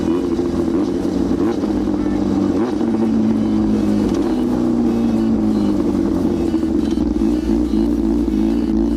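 A loud Yamaha R6 sport motorcycle being ridden, its engine droning steadily throughout with pitch rising and falling as the rider accelerates, plus low rumble and wind roar close to the mic.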